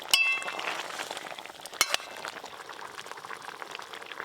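Curry broth with shrimp bubbling in a pan over a village-style stove, a soft steady simmer with occasional sharp clinks of a utensil against the pan.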